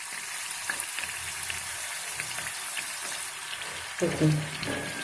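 Methi puri frying in hot oil, a steady close sizzle throughout, swelling into a louder bubbling burst near the end as oil is spooned over it.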